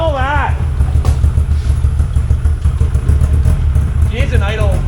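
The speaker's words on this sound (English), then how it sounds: "It needs a little idle adjustment. It might be all right once it runs. It sounds good." A 1999 Yamaha VMAX 700 triple-cylinder snowmobile engine idles steadily up close, a continuous low rumble running throughout, with people talking over it at the start and end.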